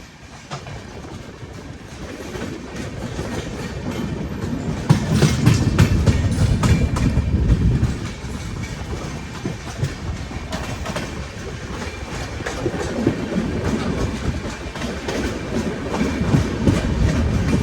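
The Punjab Mail runs on a parallel track beside a Rajdhani Express, heard from inside a First AC coach. Continuous loud rumble with rhythmic clickety-clack of wheels over rail joints and a heavier passing surge midway, with no talk.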